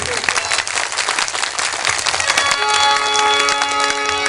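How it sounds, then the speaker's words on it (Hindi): A stage show crowd claps loudly in dense applause, and partway through, sustained musical tones from instruments begin sounding beneath it. "तो ताली ऐसा बजाइए कि हमारा चारों दिशाओं में गूंज उठे"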